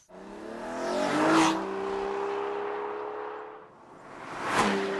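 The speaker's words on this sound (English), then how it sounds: "The best part about this engine is the sound." An Aston Martin Virage engine revs hard twice, rising to a loud roar then settling into a steady high drone between the bursts.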